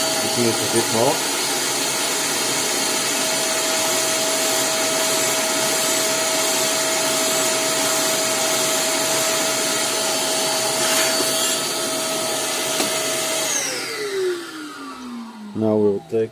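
A vacuum cleaner drones steadily at close range with a constant motor whine, cleaning drilling debris from a Vauxhall Opel 1.9 CDTI inlet manifold, then winds down near the end as a few clunks follow.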